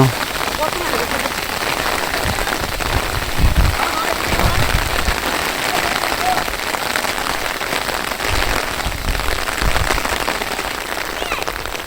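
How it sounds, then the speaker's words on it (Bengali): Steady rain pours down in a village in the late afternoon, a dense constant patter on surfaces close by that continues without a break throughout. "বৃষ্টি আবার কমে গেল"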